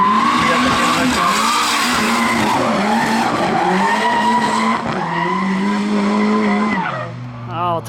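A drift car sliding at Färila Raceway, its engine wailing and revving while tires squeal in long sustained skids, loud and close before the noise drops away near the end.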